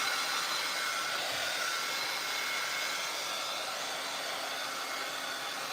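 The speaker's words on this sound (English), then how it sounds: "I'm drying up, forcing this little frame to get dried quickly." A dryer blows steadily on a small painted frame, giving a continuous airy whoosh at an even level with no pauses and no voices.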